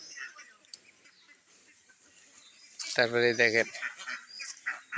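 Ducks near a beel wetland bordered by paddy fields give one clear nasal quacking call partway through, set against outdoor background noise, with a person speaking briefly.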